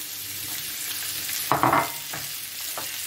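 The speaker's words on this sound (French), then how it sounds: "On remet un petit peu d'huile. Vous mettez vos courgettes." Zucchini hitting hot oil in a pan gives a short burst of sizzling and frying near the middle, then settles into a steady low crackle with a few faint clinks.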